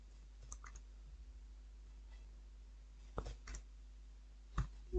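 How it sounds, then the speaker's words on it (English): Typing on a computer keyboard: a few faint, scattered key clicks, some in quick pairs, over a quiet room hum. "So let's type something. So I type a boy"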